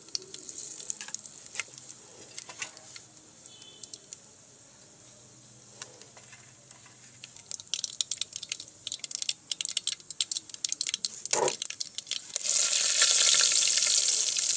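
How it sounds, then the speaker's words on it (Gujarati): Spice tempering of mustard seeds, cumin, cloves and dried fenugreek frying in hot oil, quiet crackling and popping that builds in the last seconds into a loud, steady sizzle. "તેલમાં આપણે વઘાર કરી લેવાનો છે"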